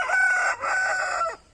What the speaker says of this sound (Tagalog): maingay nga lang ang ating mga manok